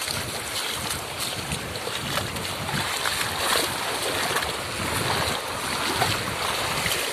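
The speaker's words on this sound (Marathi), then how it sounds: "हे बघा, आम्ही डोणीवर आहोत" A small wooden doni boat moves steadily across open water, with continuous broadband wash of water and wind buffeting the microphone throughout, no voices present.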